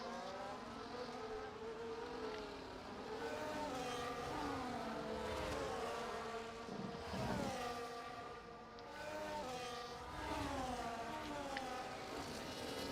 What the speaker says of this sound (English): I'll let you enjoy the sights and sounds of a safety car lap